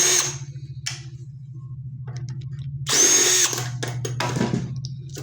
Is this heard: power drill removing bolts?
yes